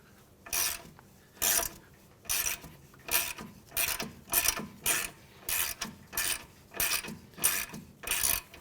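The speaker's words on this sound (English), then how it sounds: "We're going to try and break this nut free and see if that spins." A wrench works the outer tie rod nut on a 2015-2019 Hyundai Sonata with about ten rhythmic ratcheting bursts, each a short metallic grinding click spaced roughly evenly and heard up close, with no voices.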